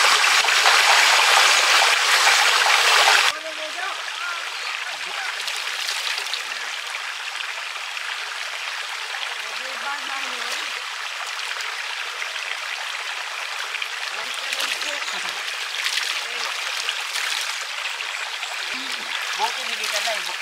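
Flowing stream water in rural Surigao del Norte, Philippines, a steady broadband rush that is loud for the first three seconds, then drops to a softer continuous trickle and babble with faint occasional sounds.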